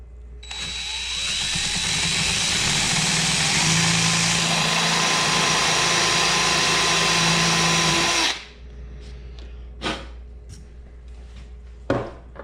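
A power drill whines steadily for about eight seconds while boring a hole through a pipe, then stops, leaving a few faint clicks and knocks.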